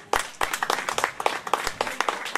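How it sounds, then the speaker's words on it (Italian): A small audience at an evening book festival in Pentone, Italy claps in a sparse, uneven patter of individual hand claps, fairly close and moderately quiet. "Lasciamo il tempo degli applausi"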